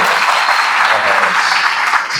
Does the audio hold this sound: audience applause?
yes